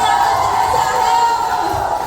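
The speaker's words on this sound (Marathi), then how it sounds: "त्यांनी जोरदार टाळ्या आणि आवाज करायचा आहे" Wedding guests at a sangeet ceremony make a loud, continuous wall of crowd noise, a dense sustained roar of cheering and clapping that holds steady throughout.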